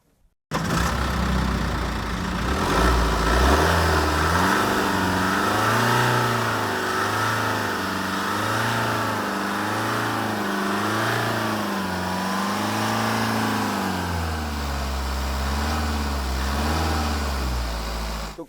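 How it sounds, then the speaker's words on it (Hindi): A 2015 BMW 520d with a 2.0 litre four-cylinder twin-turbo diesel starts and runs, settling into a steady idle with rhythmic rises and falls as the throttle is blipped repeatedly, loud and close with no talk. "एक बारी आपको इसकी साउंड सुनाता हूँ गाड़ी के इंजन की कि कैसी साउंड है"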